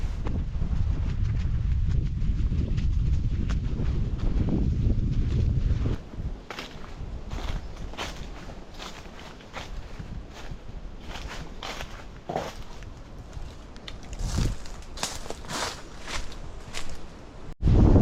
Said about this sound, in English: Get to this spot and it's pretty windy.